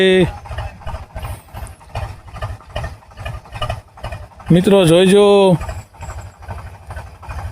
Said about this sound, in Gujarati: ટ્રેક્ટર હાયલું આવે છે